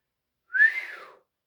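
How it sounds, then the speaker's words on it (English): A single short whistle, rising then gliding gently down, heard alone against silence. "DJ whistled."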